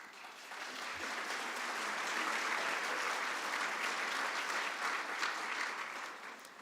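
An audience at a city's State of the City address claps in sustained applause that swells gradually and then tapers, moderately distant and steady, with no talk over it.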